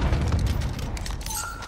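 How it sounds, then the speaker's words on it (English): A stun grenade going off in the video game Call of Duty: Modern Warfare, a deep, rumbling boom followed by a thin, high ringing tone. "Who the hell threw that stun grenade?"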